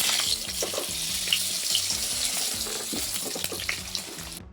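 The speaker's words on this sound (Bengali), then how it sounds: "এখন আলু আর শালগমটা ভেজে নিচ্ছি।" Potato and turnip pieces frying in hot oil in a kadai, a dense, steady sizzle with bubbling crackles throughout, close and fairly loud, no speech.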